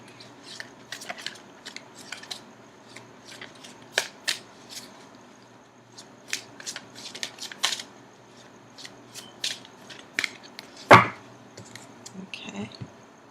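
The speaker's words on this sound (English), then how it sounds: "I'm going to continue shuffling for just a few more seconds, and then I'll cut the cards." Tarot cards are shuffled by hand in a quiet room, giving irregular bursts of crisp riffling and soft slapping, with one louder snap near the end.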